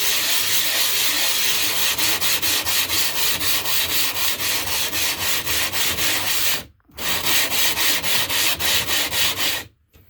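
A knife blade scrapes rhythmically across a gritty whetstone, fast even back-and-forth strokes in a loud continuous rasp, pausing briefly twice before resuming.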